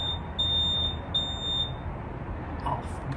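A PressurePro tire pressure monitor in an RV sounds several short, high electronic beeps in an irregular rhythm over steady low background noise, then falls silent.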